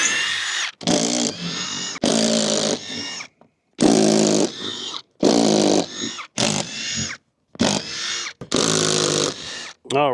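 Power drill backing screws out of a toy hauler ladder, loud close whirring bursts of about one second each, repeated around nine times with short silent gaps between them.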